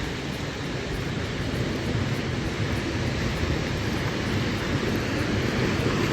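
Rain- and snowmelt-swollen water falls in Bergen with a loud, steady broadband roar that runs unbroken and close, with no voices over it.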